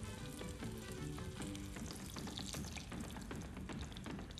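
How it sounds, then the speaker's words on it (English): Chicken tacos frying in hot oil, a steady dense sizzle and crackle with small pops that continues unbroken, close and moderately loud, with no talking. "We want to fry it both sides for about a minute each side"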